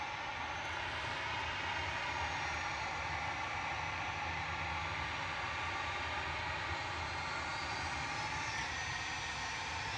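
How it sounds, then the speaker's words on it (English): A Boeing 737-800 departs Manchester Airport bound for Vienna, its jet engines producing a loud, steady broadband roar that holds through the whole stretch with no voices over it. "693 departing to Vienna now, 737-800 on HQDW"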